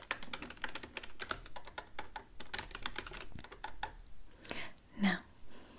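Quiet, close typing on a computer keyboard at a hotel check-in desk in a Lord of the Rings themed roleplay, an irregular patter of soft key taps with a brief soft vocal sound near the end.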